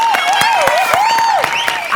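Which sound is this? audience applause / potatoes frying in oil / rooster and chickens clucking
audience applause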